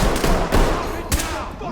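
Gunfire in the tactical shooter Ready or Not: a few close, loud shots cracking in a short burst over a noisy background, with some muffled voice underneath.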